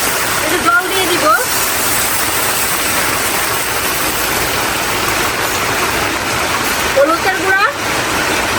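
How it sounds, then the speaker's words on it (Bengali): Heavy rain pours steadily in a dense, loud roar, and someone talks over it briefly near the start and again near the end. No distinct thunder stands out. "কি প্রচন্ড পরিমাণে বৃষ্টি হইতেছে, তারপরে অনেক বজ্রপাত করতেছে"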